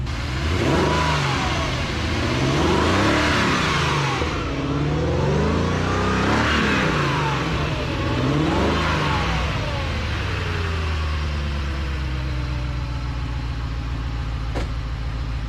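A Ferrari F355 sports car engine revs hard in repeated rising and falling bursts, loud and close, then settles into a steady high drone.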